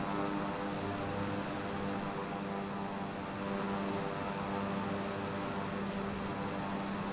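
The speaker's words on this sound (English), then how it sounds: "Look at the plane." A propeller airplane in Flight Simulator drones steadily, a constant even engine hum with no change in pitch or loudness, fairly faint and alone.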